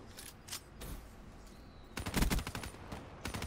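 Gunfire in a first-person shooter game's Gun Game mode crackles in scattered single shots, then a louder rapid burst of automatic fire breaks out partway through, sharp and close.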